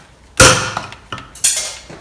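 A sharp metallic hammer strike rings out, followed by three lighter taps on metal parts, close by and with no talk.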